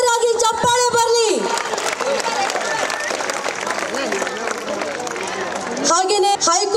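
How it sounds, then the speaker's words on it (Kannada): A crowd at a 125th-anniversary celebration of a government higher primary school in Mansur breaks into sustained applause. The steady clapping fills the middle of the clip, and a voice speaks before and after it. "ಜೋರಾಗಿ ಚಪ್ಪಾಳೆ ಬರಲಿ"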